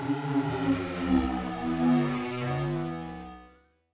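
Serum synth effect with noise and oscillators layered together makes a thick, wavering drone with swelling and dipping textures, which fades out near the end, heard alone.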